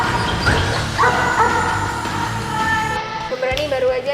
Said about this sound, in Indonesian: Saat menemukan korban, ia akan menggonggong untuk memberitahu pasukan SAR yang bertugas bersamanya.